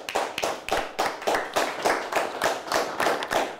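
Studio audience at a high school quiz show gives a lively round of applause, steady dense clapping throughout with rhythmic swells, no talking.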